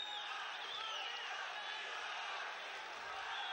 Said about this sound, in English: The crowd here rising to this occasion